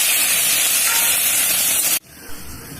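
Chopped tomatoes tipped onto fried chilies give a loud, steady sizzle in a hot pan for about two seconds, then it cuts off sharply, leaving a quieter hiss with a small bump.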